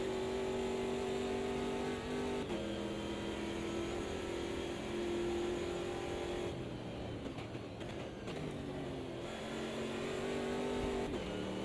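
Race car engine in a sim racing video game accelerating hard with boost, a steady loud mid-pitched drone whose pitch climbs and drops through gear changes, with a brief dip as the car slows before pulling again.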